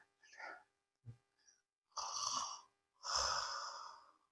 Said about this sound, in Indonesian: Dia bisa tidur pula sekali sampai mendengkur, ya ngorok itu.